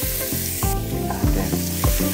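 Garlic and onion frying in oil in a pan, a steady close sizzle with rhythmic stirring scrapes repeating about every half second.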